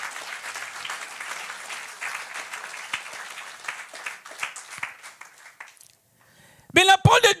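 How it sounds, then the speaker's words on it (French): A church congregation at a worship service applauds loudly and steadily for about six seconds, then the clapping stops and a voice begins speaking. "Acclamons très fort le Seigneur Jésus."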